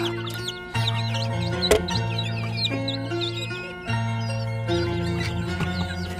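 Free-range village chickens cluck and chirp close by, newly hatched chicks among them, in a steady overlapping chorus of short calls with a few sharper squawks and a low continuous hum underneath.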